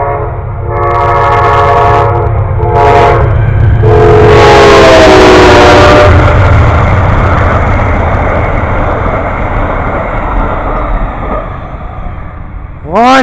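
A train passes close by, opening with several loud, sustained horn blasts, then a heavy, steady rumble and rattle of cars rolling past that slowly fades.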